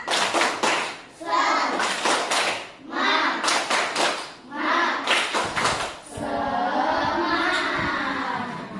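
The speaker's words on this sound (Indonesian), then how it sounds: "Tepuk semangat terlebih dahulu. Tepuk semangat." A classroom group performs a rhythmic spirit clap, bursts of sharp hand claps in patterned bursts with short pauses, loud and close, mixed with children's voices and ending in a burst of cheering.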